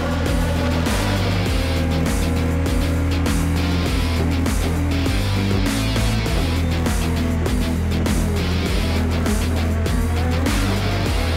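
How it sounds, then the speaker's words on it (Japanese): A pack of Super GT race cars roaring away at the green-signal start of the 2024 Round 4 350 km race at Fuji, a loud, continuous, layered engine drone with rising and shifting pitches and no voices. "2024オートバックスーパー GT ラウンド4富士 GT350 キロレース、今グリーンシグナル"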